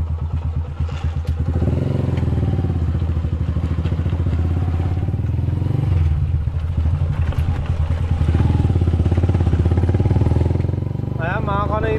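Motorcycle engine running steadily close by for several seconds, a constant rumbling drone that swells slightly toward the end, with voices speaking over it.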